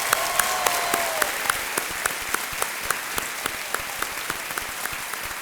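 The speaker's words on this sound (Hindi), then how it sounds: "एक बार फिर तालियों के साथ इनका स्वागत।" Studio audience at the Kaun Banega Crorepati season 9 game show applauds to welcome a contestant: dense, steady clapping that runs the whole stretch at an even level, with no talking over it.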